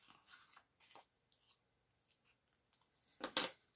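Scissors snip at an angle through folded paper to bevel a page corner, a few soft rustles of handling followed by one sharp, close cutting burst near the end.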